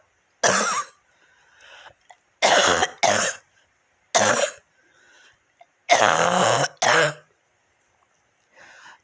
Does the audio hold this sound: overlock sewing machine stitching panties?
no